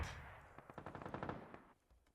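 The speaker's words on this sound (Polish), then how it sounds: "Jeszcze z prawej strony coś strzelają." A quick burst of machine-gun fire from off to the right in PUBG, a rattling string of shots that fades out after under two seconds, faint and somewhat distant.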